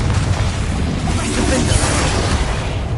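Explosive spells such as Bombarda and Confringo cast in combat in Hogwarts Legacy, a dense stretch of loud booming blasts and bursts running continuously for three seconds, with voices mixed underneath.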